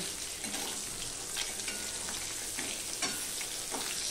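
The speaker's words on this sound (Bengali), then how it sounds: "উল্টে দিয়ে এই পিঠটাও ঠিক এরকমভাবে ভেজে নেব।" A flipped piece of hilsa fish fries in hot oil with a steady, close sizzle, broken by a few soft scrapes of a spatula.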